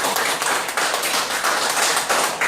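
Dense, continuous clapping from an audience at a history forum, steady and fairly loud throughout with no talk over it.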